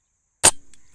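A single sharp air rifle report fires a Pak-made MHF Air Pearl pellet toward a 100-yard target, close and brief with a short ringing tail and no talking.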